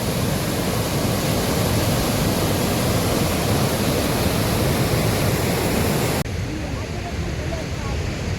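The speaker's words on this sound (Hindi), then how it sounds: "छोटे मोटे नदी नाले कितने उफान पर हैं" A swollen village stream rushes after heavy rain, water running high near a bridge. The roar is a loud, steady broadband rush that drops slightly in level near the end but carries on.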